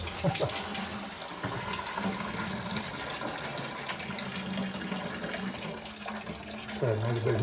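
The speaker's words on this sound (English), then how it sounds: "It drains everything from that faucet on down here." Water runs and drains from a faucet after the pipes are shut off in a 1920s Craftsman bungalow remodel, a steady splashing flow under faint talk.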